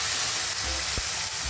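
Chopped tomatoes hit browned onions in a pan for Malwani chicken curry, giving a loud, steady hiss and sizzle of frying, with a brief clatter of stirring partway through.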